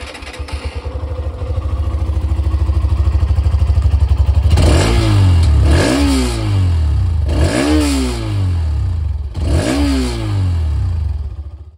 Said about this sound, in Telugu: ఇప్పుడు ఒకసారి ఎగ్జాస్ట్ నోట్ విందాం